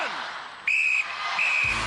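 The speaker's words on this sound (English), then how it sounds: "you will go on my first whistle" A referee's whistle starts a race on the Gladiators (UK) elimination course: two sharp, bright blasts, a short one followed by a longer one, with faint crowd noise behind.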